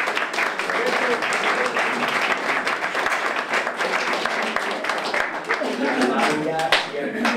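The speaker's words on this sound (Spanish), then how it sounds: "Un aplauso para ellos." Audience applause at the 2019 liARTE art exhibition opening in Barbastro, honoring selected local artists: dense, steady clapping from a sizable crowd filling the room for several seconds, with some voices mixed in.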